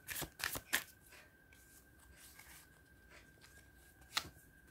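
Tarot cards are shuffled by hand in a quiet room: a rapid cluster of crisp riffling bursts at the start, softer rustling in the middle, and one more sharp riffle near the end.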